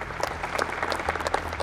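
Audience applause during a studio discussion show: a steady, dense patter of many hands clapping, fairly even in loudness throughout, with no voices over it.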